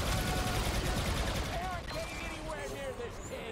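Rapid gunfire in the video game Star Wars Battlefront 2, bursts of shots crackling densely over a noisy battle background, with a player talking over it.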